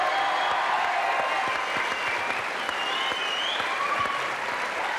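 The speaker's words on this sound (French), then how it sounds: "Applaudissements pour Annie." Studio audience applauding for Annie Pujol on a French radio-television show at the Maison de la Radio, a sustained, even wash of clapping from a crowd with faint voices underneath.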